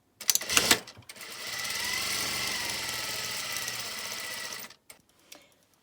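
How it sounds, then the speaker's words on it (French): A sewing machine stitching seams on a fabric face mask: a few handling clicks, then a steady whirring run of about four seconds that stops abruptly, followed by light clicks, close by with no talk. "Alors, j'ai fait les 2 coutures."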